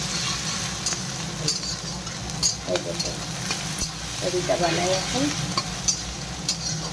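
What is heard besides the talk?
onion, garlic and green chilli frying and stirred in a wok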